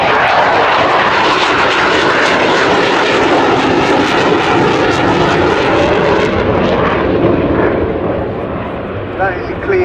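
Twin jet engines of a Sea Vixen roar loudly and steadily, a dense broadband blast that stays close and continuous, easing slightly toward the end.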